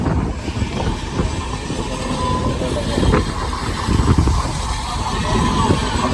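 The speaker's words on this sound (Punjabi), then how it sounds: "ਰੇਲ ਗੱਡੀ ਤੇ ਚੱਲ ਪਈ" A passenger train on the line from Hazur Sahib to Nanak Jhira, heard from inside a coach, rumbles steadily on the rails with a constant broadband roar and faint clatter, and voices come through faintly under the noise.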